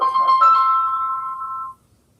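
A mobile phone ringtone rings loud and close during a city council meeting, one sustained electronic tone with warbling overtones lasting under two seconds before cutting off into room quiet.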